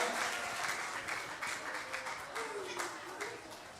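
Congregation at a revival service clapping hands in unison, a brisk rhythmic patter of many palms, while a voice speaks over it.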